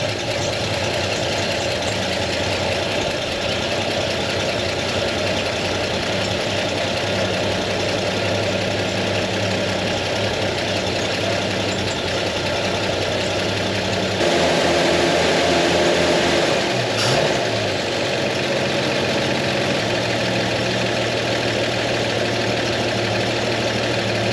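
An old vehicle with a weak fuel pump idles in a constant low drone, close by, briefly rising louder and rougher midway before settling back, with no speech.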